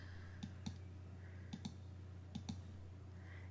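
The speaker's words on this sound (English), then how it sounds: "And now I'm going to click." Sharp computer mouse clicks while working in Photoshop, arriving in three quick pairs of double clicks, close and crisp over a steady low electrical hum, with no talking.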